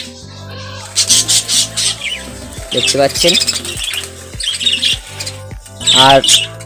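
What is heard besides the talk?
budgies in a new budgie colony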